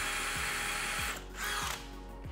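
A power drill bores a tiny test hole into a wall while searching for studs during TV mounting, a steady close whine with a few brief dips in pitch as it bites, with no talking.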